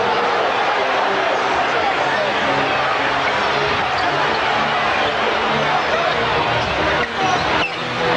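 Loud, sustained roar of a basketball arena crowd cheering during a 1985 NBA Western Conference Finals game between the Lakers and Nuggets, a dense wall of noise that barely dips toward the end.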